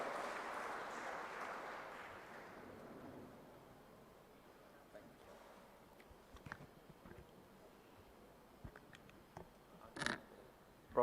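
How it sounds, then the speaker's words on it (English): Applause from a lecture audience at a valedictory function of an endowment lecture series, loud and dense at first, then thinning to scattered claps and fading out over several seconds. "Please put your hands together and welcome with a round of applause Mr."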